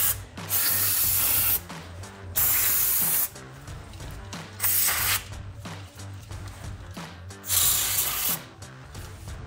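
PB Blaster penetrating oil hisses from an aerosol can onto the front brake caliper bolts of a 2009-2018 RAM 2500, sprayed in four or five close, sharp bursts with short gaps between them.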